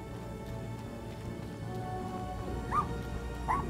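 A dog in the video game Little Misfortune, faint whimpering yips over a steady background hum, two short cries near the end.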